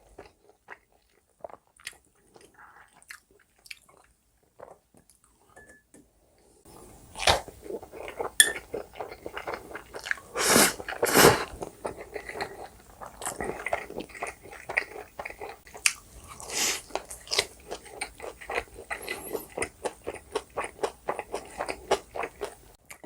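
Close, crisp eating of Domino's meat pizza and convenience-store spaghetti: quiet soft chews at first, then loud crunchy bites, wet chewing, and occasional clinks of cutlery against dishes, with no talking.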